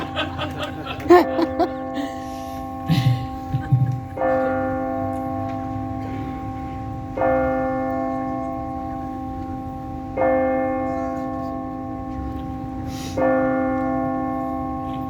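Church bells toll in a slow, steady series of strikes every few seconds, their ringing tones lingering, with brief chuckling early on.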